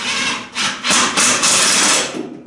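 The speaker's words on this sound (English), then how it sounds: "Just able to get the nut driver in here on the impact driver." An impact driver fitted with a nut driver fastens parts of a cyclone dust collector in a small workshop, giving several loud close bursts of rattling hammering with brief pauses between them.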